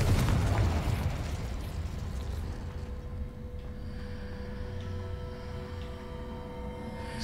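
Confringo explosion spell in the video game Hogwarts Legacy, a single heavy blast that starts loud and booming, then fades into a long rumbling tail under a steady background hum.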